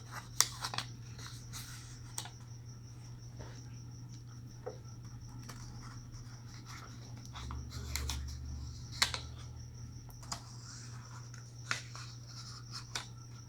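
Soft crinkles and scattered light creases of paper being handled and folded into an origami four-leaf clover, close by, over a steady low hum, with no talking.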